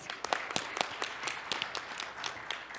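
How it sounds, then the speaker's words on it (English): A conference audience at a cyberspace security forum applauds a panelist from a Korean national security institute, with faint scattered claps from a small crowd, distant and sparse. "Please welcome her with a big round of applause."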